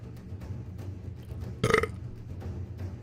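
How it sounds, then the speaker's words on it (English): A single loud belch lasting a fraction of a second, close to the mic, with low background hum and no talk around it. "Burp."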